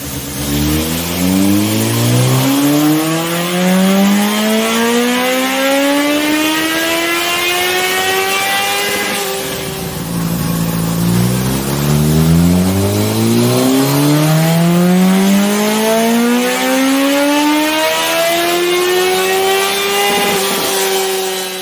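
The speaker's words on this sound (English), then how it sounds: "The bike's strapped down here on the dyno, so we're going to make some pulls with it here" A 2020 Suzuki GSX-S 1000 Katana motorcycle strapped to a dyno makes two loud full-throttle pulls, each engine note sweeping steadily upward through the gears before dropping off, with no talk over it.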